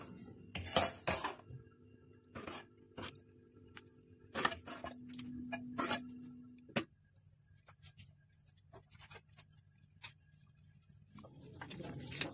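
A spoon stirs a few drops of rose water into vermicelli kheer in a pot, giving sparse, soft clinks and scrapes spread across a quiet background.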